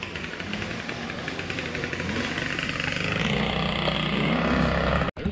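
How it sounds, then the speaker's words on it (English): Steady engine drone of motorbikes passing nearby at the Thomas Iron Company ruins in Pennsylvania, rising in intensity over several seconds before a sudden brief cutout near the end. "We're trying to explore in between the motorbikes driving by."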